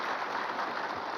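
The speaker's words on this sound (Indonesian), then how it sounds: "Tepuk tangan dulu." Studio audience at a Siraman Qolbu religious talk show clapping together, a brief, dense burst of applause filling the moment without voices.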